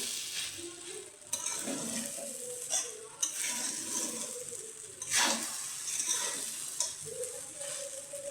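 Sabudana khichdi is stirred in a pot with soft scraping and light sizzling strokes, recurring irregularly and heard up close without talk.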